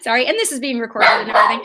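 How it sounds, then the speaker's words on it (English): A pet dog indoors gives several sharp, loud barks and yips while a person keeps talking over them during an online study session. "That's my dog."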